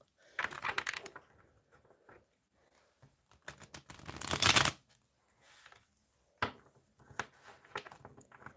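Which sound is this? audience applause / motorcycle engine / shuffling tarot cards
shuffling tarot cards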